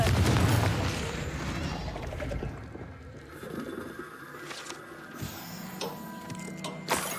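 In the Hogwarts Legacy video game, a Confringo blast spell bursts with a loud booming roar that fades into rumbling debris and scattered crackles, ending with a sharp thump.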